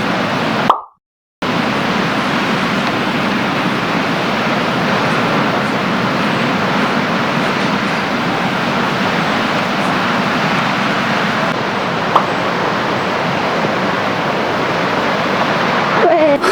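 Ocean surf with waves breaking in a continuous, loud, broadband roar of moving water that fills the whole stretch, broken only by a brief dropout near the start.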